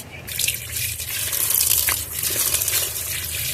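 Water gushes and trickles steadily onto vegetable peels mixed with jaggery water for compost, a close, continuous pour lasting the whole stretch.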